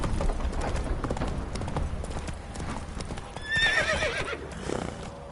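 Horse hooves clip-clop steadily in the Witcher 3 video game, and a short, clear whinny rises in the middle, with a faint voice briefly under the hoofbeats.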